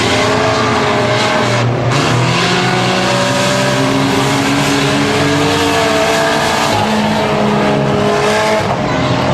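Race cars roar past at the finish of a short-track race at 250 Speedway, engine tones sweeping up and down continuously, loud and close with a dense, overlapping rumble and no voices.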